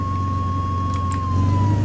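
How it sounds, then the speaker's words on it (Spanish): A wailing emergency siren from the video game Flashing Lights holds a steady tone over a loud, low engine rumble, close and continuous with no talk. "Tú, quítate, que voy con la sirena."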